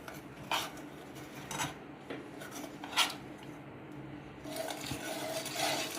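A spoon stirs a milk and Tang mixture, making soft scattered clinks and scrapes against the vessel over a quiet background, with a slightly louder rustle of stirring toward the end and no talking.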